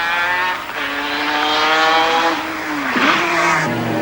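A Mazda RX7 race car at Mount Panorama shifts down through the gears and brakes, the rotary engine note stepping down in pitch with a brief tyre squeal as it slows for a corner, loud and close.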